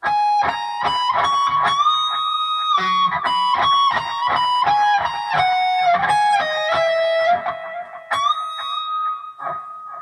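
A slow electric guitar solo line with sustained, bending notes over rhythmic picked accompaniment, played steadily and clearly with no voices.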